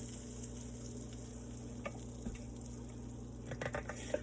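Honey walnut shrimp frying in a pan, a steady close sizzle with faint stirring clicks near the end, and no talking.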